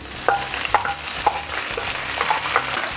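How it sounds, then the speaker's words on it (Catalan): Spinach frying in a pan with raisins, a steady close sizzle broken by several sharp taps of a utensil stirring against the pan, with no voices. "I ara és el moment de tirar-hi els espinacs."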